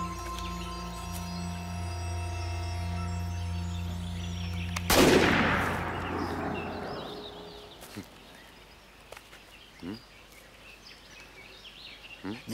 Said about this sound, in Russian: Не может быть, чтобы они выстрелы не слышали.